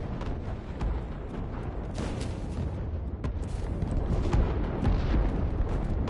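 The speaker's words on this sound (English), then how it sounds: "Holy missiles!" Missiles exploding in the video game CRSED, a continuous roar of overlapping booms and crackling bursts that swells louder toward the end, dense and close.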